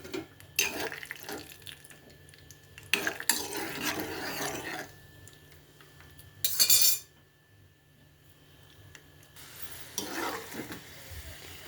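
Peanuts frying in hot oil in a pan while a spoon stirs them, with steady sizzling and repeated metallic scrapes and clinks, loud bursts of stirring between quieter stretches.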